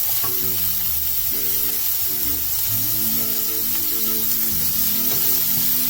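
Onions sizzle and fry in hot oil with cumin, a loud, constant close-up hiss that goes on without a break, while a low background melody plays beneath it.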